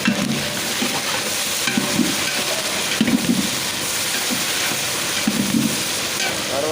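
Cumin, mustard seeds, peanuts and green chillies sizzle loudly in hot oil for a vegetable pickle, with a steady close fry and periodic scraping stirs of the spoon.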